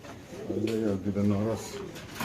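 Pigeons coo close by at a busy pigeon market in Bangladesh, a low, rolling burble repeating over a murmur of voices.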